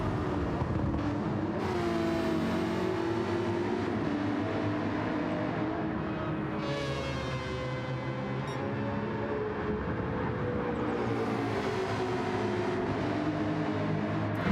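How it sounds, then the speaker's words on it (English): Race cars lapping Le Mans in a WEC round of a racing video game: continuous loud engine drone with rising and falling revs and pitch sweeps as cars pass close by, no talk. "brilliant sounds coming out of these race cars here at LeMans for round 2 of the WEC"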